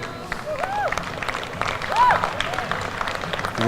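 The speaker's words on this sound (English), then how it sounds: "A round of applause for these ladies who come through" A crowd at a state track and field championship applauds women finishing a wheelchair 100 m race: scattered clapping and cheering under a public-address voice, with a whistle-like tone and general stadium bustle.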